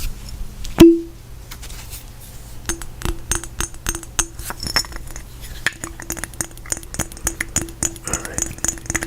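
A small glass object is tapped and clinked close up in a quiet ASMR setting: one sharp ringing ping, then a long run of light, irregular glassy taps and chinks.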